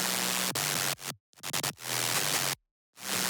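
A synthesized sine-wave layer pushed through noise and distortion, heard as loud, harsh, crunchy bursts of static with a faint underlying tone, chopped into rhythmic stabs separated by abrupt silences.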